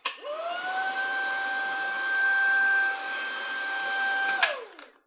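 A Xiaomi Mi Vacuum Cleaner G10 Plus cordless stick vacuum runs steadily with a rising whine at start-up and a sustained motor hum, alone and close, before cutting off near the end.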